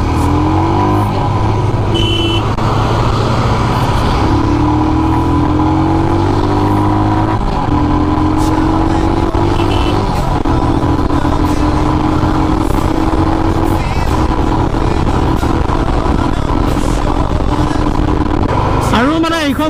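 A Royal Enfield Himalayan BS6 motorcycle being ridden, its steady engine drone with rising and falling pitch running continuously and close throughout, wind and road noise mixed in.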